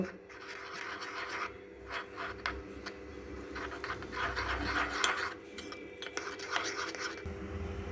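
Powdered milk is stirred into liquid milk with a spoon, giving soft, repeated scraping and rubbing strokes against the container, faint and close, in an uneven rhythm.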